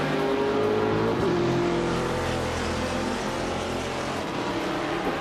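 A 1998 TVR Speed 12 GTS race car in a racing game holds a loud, steady engine drone with a sustained high tone, an upshift and continuous close roar throughout.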